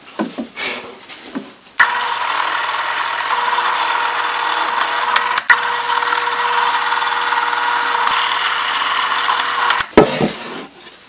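A Porter-Cable floor-stand drill press whirs loudly and steadily as the bit grinds holes into wood, beginning and ending with short bursts of handling noise.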